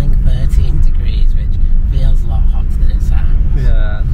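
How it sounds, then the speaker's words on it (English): Interior road noise from a car heading out of Lytham on a warm day, a steady low rumble running throughout beneath almost continuous talk. "So we are back in the car now, just heading out of Lytham."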